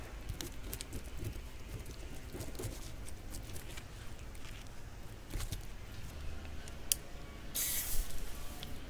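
A butter knife scraping scales off the underside of a bream's belly: quiet, repeated rasping strokes with a few sharper scrapes and a short spray-like burst near the end.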